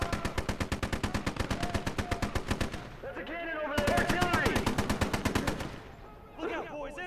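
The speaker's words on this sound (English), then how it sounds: "I need to try and take out this machine gun" An enemy machine gun fires long steady bursts of evenly spaced rounds in the World War II strategy game Gates of Hell, loud and sustained, breaking off briefly before resuming, with a voice talking during the pause and afterward.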